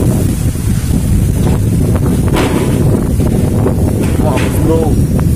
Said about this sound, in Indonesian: Angin cukup kencang, besar